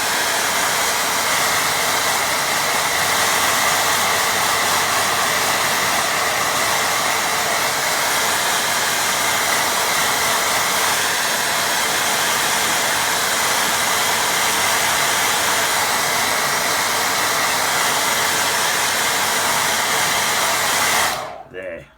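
A hair dryer blows at a constant loud roar while drying a watercolour painting, steady and close, then cuts off abruptly at the end.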